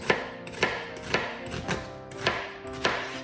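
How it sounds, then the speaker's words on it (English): Knife chopping onions on a cutting board, six distinct sharp strikes at a steady, unhurried rhythm, close and clear with no talking. "So let's chop the onions."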